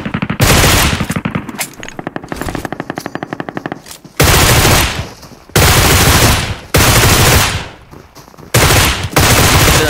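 Loud, close automatic gunfire in the PUBG Mobile Metro Royale mode, one long rapid burst followed by several shorter repeated volleys with brief gaps between them.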